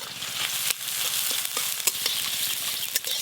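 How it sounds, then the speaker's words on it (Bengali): Chopped onion and green chilli fry in mustard oil, a close, bright, continuous sizzle with scattered crackles and a few brief spatula scrapes, no talking. "পেঁয়াজ আর কাঁচা লঙ্কা একটু ভাজা ভাজা করে নিয়েছি।"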